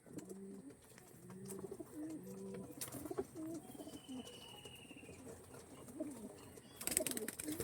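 Racing pigeons bred for long-distance flying coo in a loft, with repeated low rolling calls in several bursts, fairly close, over a quiet background with a few sharp clicks and knocks.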